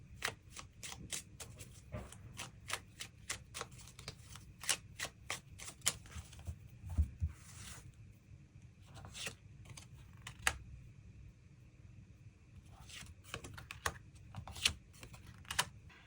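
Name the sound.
shuffling and drawing tarot cards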